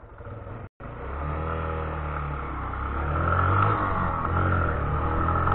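A motorcycle engine runs steadily and then revs louder as it rides off-road over rough ground, with a rattling clatter mixed in after a brief dropout.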